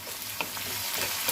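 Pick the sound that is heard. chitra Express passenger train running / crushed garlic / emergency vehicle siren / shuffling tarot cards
crushed garlic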